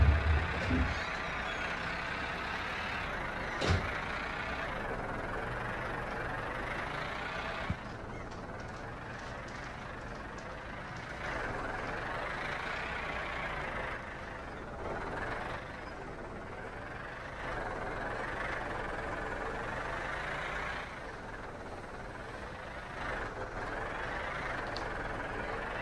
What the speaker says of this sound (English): I'm just shoving people's cars around with a tractor.